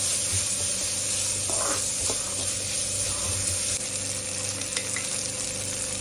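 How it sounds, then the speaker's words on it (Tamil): Chopped onions sautéing in a pan for a noodle dish, being stirred until brown; a loud, continuous sizzle and hiss with occasional scraping of the spoon, no talk. "வெங்காயம் இப்ப கொஞ்சம் நல்லா பிரவுன் கலர் ஆகுற வரையும் இதை நல்லா வதக்கிக்கலாம்."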